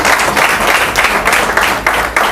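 Audience clapping loudly and steadily at a business seminar in a hall, a dense continuous wash of applause with no voices over it.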